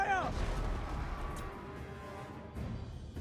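Volley of massed gunfire in the fantasy strategy game Total War: Warhammer 2 during a siege battle, a dense crackle of shots with a brief voice at the start, continuing as a rumbling, sustained fusillade.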